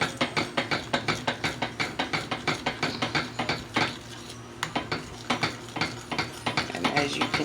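A spoon scrapes and knocks rhythmically against a pot while gravy with cornstarch mix is stirred quickly, making fast regular clinks and swishes with a short pause midway, close and clear.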